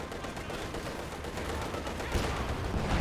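Steady Maxim machine gun fire rattles in Company of Heroes 2, a continuous distant burst of rapid shots under battle noise, growing slightly louder toward the end.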